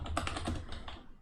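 Quick keystrokes tap on a computer keyboard, a short close burst of several clicks in uneven rhythm.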